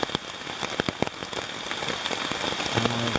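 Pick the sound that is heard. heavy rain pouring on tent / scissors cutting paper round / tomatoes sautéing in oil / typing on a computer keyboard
heavy rain pouring on tent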